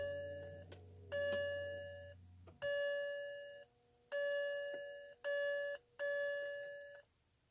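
A 2007 BMW 328xi (E90) with a no-crank, no-start fault gives a start attempt: a brief low hum, then five or six clear electronic chime bursts, close by and fairly quiet, with no engine cranking.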